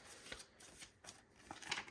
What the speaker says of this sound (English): So I'm just going to shuffle these.